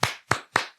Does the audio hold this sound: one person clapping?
yes